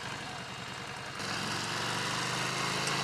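Harley Davidson Street 750 motorcycle engine running, a steady rumbling drone close by that swells a little louder partway through and holds there.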